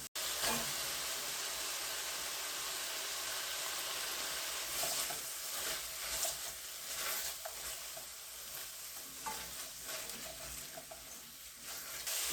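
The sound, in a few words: vegetables being added to a pot of one-pot pasta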